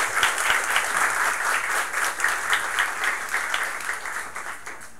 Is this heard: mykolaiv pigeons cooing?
no